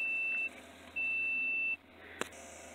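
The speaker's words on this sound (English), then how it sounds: "the ringer sounds because we have continuity, meaning a direct connection." A multimeter continuity tester beeps twice with steady electronic tones, a short one and then a longer one, while probing ground pins on a Ford Explorer's stuck park shifter circuit. A sharp click follows in a quiet room.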